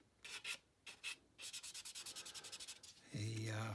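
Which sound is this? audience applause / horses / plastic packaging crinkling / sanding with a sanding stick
sanding with a sanding stick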